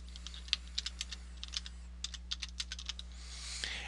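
Password being typed on a computer keyboard: a run of quick, light key clicks in an uneven rhythm, close and fairly quiet over a steady low electrical hum, with a short pause midway through.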